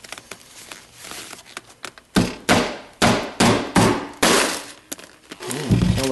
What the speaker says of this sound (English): Plan B, hammer.